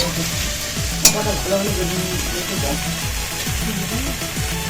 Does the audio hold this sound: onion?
yes